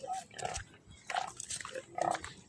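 A pig grunts and snorts in short bursts, close and fairly faint, with people talking quietly nearby.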